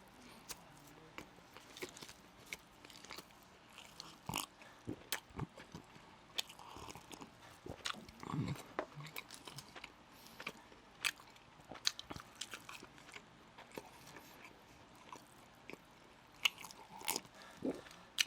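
Rapid biting and chewing of a McDonald's burger, close and crunchy, with quick irregular bites repeating throughout over a faint background.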